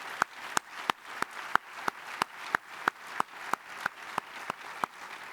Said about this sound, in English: Let's give a round of applause to the people who've served us breakfast